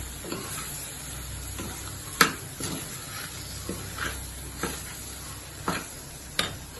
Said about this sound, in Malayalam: വെണ്ടക്കനെ നല്ലോണം കുഴച്ച് ഇതിൻ്റെ കൂടെ മിക്സ് ചെയ്യാം.